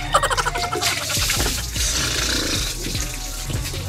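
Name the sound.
running water while taking a bath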